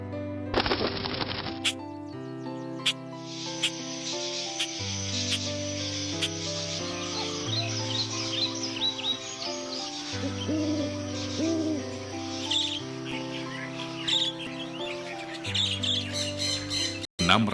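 Owl hooting and assorted bird calls, probably a produced nature soundtrack, run steadily throughout with bright chirps and squawks layered over sustained low tonal music.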